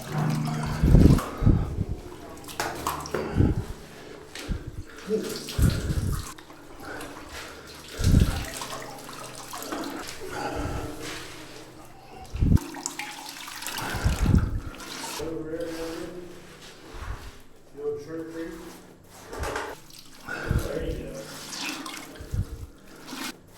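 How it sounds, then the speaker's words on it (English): Water wrung from a towel splashes and dribbles into a bucket in repeated loud bursts with pauses between, close by, during cleanup of tainted water from a cistern. "now it's just using a towel and wringing it out into a bucket"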